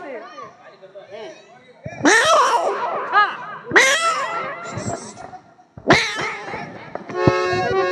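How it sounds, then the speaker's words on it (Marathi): A pregnant cat gives several loud, drawn-out meows in bursts, close by, with gaps between calls and some quiet background chatter. "मी पाळलेलं मांजर आलं माझ्या घरातलं"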